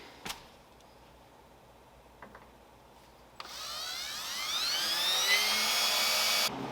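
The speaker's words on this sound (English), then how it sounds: "So we're going to start drilling holes for that." A drill bores into the steel cross member of a Ram 1500 for an intercooler bracket, starting after a few faint clicks and holding a loud, rising whine for about three seconds before it stops.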